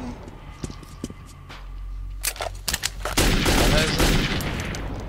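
Gunfire in the first-person shooter Metro 2033: a few scattered shots, then a dense burst of rapid automatic fire near the end, with someone briefly talking in German.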